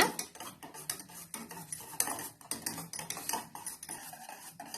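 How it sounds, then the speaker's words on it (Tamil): A spoon scrapes and clinks around a metal pot in quick, repeated strokes, stirring thick wheat flour batter over a low flame; no voices. "ஆட் பண்ணி இது மாதிரி நல்லா கிளறி விடுங்க"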